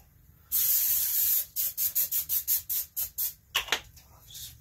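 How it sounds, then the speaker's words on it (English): A long hiss from a can of butter-flavored cooking spray onto a pan, then a quick series of about a dozen short spray bursts in steady rhythm, close up. "Take my spray. This is just butter flavored spray."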